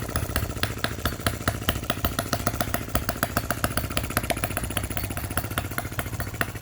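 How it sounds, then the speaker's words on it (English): A Lister D working miniature petrol engine runs steadily, its rapid even firing beats close and loud with a mechanical clatter and no voices. "What a fantastic engine."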